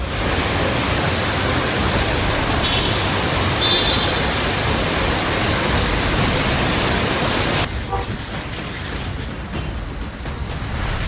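Heavy rain on waterlogged Delhi streets gives a dense, steady hiss throughout, easing slightly in the last few seconds.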